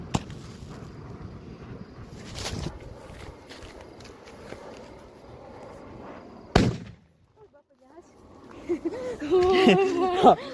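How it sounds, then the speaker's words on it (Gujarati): A firecracker bomb bursts twice on a farm, each a single sharp bang with quiet murmuring and rustling in between, followed by a brief shrill, whistling cry near the end. "અત્યારે જો લઈ લીધો છે કૂતળો બોમ્બ એક અવાજ કરીને"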